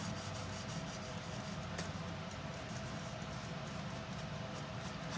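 A sponge dabs and rubs paint onto a paper heart, a faint continuous scratchy rubbing close up under a steady background hiss.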